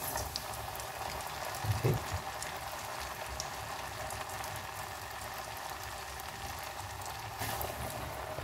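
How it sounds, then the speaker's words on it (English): Banana fritters frying in heated vegetable oil give a steady, bubbling sizzle, with a brief clatter near the start and a single short spoken word. "Got my vegetable oil heated up, and these are my prepared fritters."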